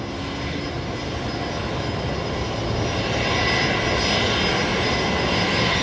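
Aircraft engine noise at Brisbane Airport during busy single-runway operations: a loud, steady broadband roar that swells slightly partway through, with no voices.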